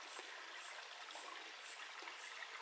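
Faint, steady rush of water running along a stream, an even, bubbling flow with no voices.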